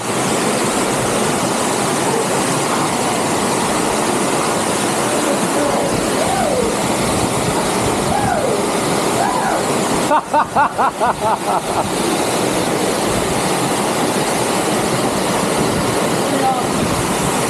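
A waterfall at Charco Azul pours in a steady, dense roar of rushing water close by, with a short burst of rapid clattering midway through.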